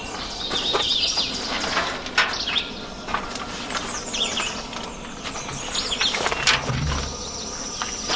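Morning at Matthews Arm Campground in Shenandoah National Park, with birds chirping and calling near and far over a steady insect buzz, a few wing flutters, and a faint low rumble toward the end.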